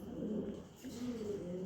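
Pigeons coo in steady low, rounded calls from a loft of big-size paired birds, the soft throaty sounds overlapping close by with no talk.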